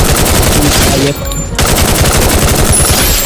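Rapid bursts of automatic gunfire from the Free Fire video game, loud and dense, rattling almost continuously with a brief dip in the middle before resuming.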